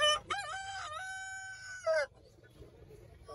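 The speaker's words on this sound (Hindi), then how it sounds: "मुर्गियां देखे कितनी बड़ी बड़ी यार," A rooster crows loudly and close by in one long drawn-out call, with a brief squawk before it and faint chicken clucks after, among the cages of a Rawalpindi bird market.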